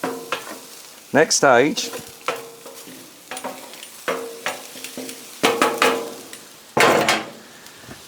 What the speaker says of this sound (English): Get this chicken nice and browned off.